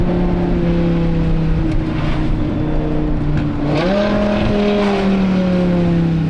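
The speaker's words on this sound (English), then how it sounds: "Sounds like a proper sports car." Loud, close engine drone with a deep rumbling exhaust, holding steady then rising sharply in pitch as the car revs, with a high whine above.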